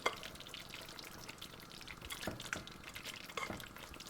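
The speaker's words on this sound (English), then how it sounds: "Immediately back in goes the mutton." Goat mutton pieces fry in a dark curry paste with a soft, crackling sizzle and occasional stirring clatter and drips, quiet and close, with no talking.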